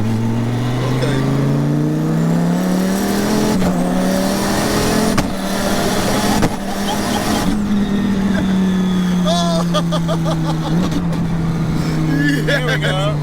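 A 2000 hp twin-turbo 8.4-litre V10 Dodge Viper with a sequential gearbox roars loudly from inside the car, its pitch climbing through the gears and breaking briefly at each ignition-cut shift.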